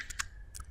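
Computer keyboard typing, a few sparse key clicks over a quiet background hum, close and soft.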